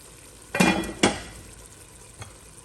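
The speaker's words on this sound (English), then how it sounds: "Give it a stir." A spoon scrapes around a pot of simmering amaranth leaves, two distinct stirring strokes close by, then a faint single clink, with no talking.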